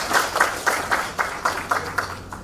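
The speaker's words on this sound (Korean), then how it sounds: "여러분 큰 박수로 맞아주시기 바랍니다" An audience at an industrial conference welcomes a speaker with applause, claps pulsing in a fairly even rhythm, moderately loud and with no voices over it.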